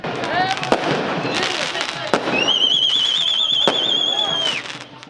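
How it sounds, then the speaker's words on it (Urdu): Fireworks crack and pop in sharp bursts with a rising whistling shriek at the opening ceremony of the Jeshan Bahara spring festival in Swat, loud and close amid crowd noise and voices. "فیسٹیول کے افتتاحی تقریب کے موقع پر آتش بازی"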